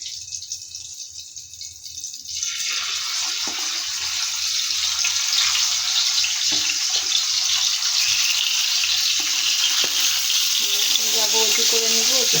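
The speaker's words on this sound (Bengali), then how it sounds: "আর আমার জন্য বেগুন ভাজবো।" Eggplant frying in a home kitchen starts as a quieter stretch, then swells into a loud, continuous sizzle and crackle that stays close and steady to the end.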